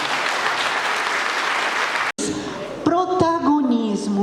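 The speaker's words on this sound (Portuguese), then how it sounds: "Uma salva de palmas" Audience applause in a seminar auditorium: dense, loud clapping for about two seconds, then it cuts off and a person speaks into a microphone.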